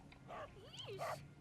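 A guard dog in Final Fantasy VII gives a couple of short, close barks and yips with a rising-falling whine between them, standing alone without speech.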